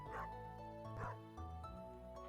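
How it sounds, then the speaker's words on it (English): Dog barking in the farming video game Stardew Valley, a few short yipping barks spaced about a second apart over a soft, steady musical background. "You see this dog here?"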